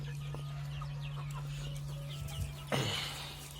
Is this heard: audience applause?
no